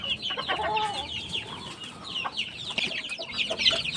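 Six chicks in a backyard chirping in high, busy peeps close by, with clucking from nearby fowl mixed in.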